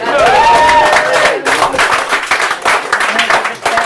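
Audience applause at an open mic night in a Limerick bar, a dense burst of clapping mixed with cheering and crowd voices, loud and close, thinning slightly toward the end.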